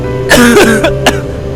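Two or three harsh coughs, close and loud, with a throat-clearing rasp between them, against a low steady hum.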